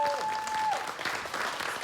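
A studio audience on a Korean TV variety show claps in a dense, steady burst of applause at moderate volume, with a brief tonal sound at the start and faint voices beneath.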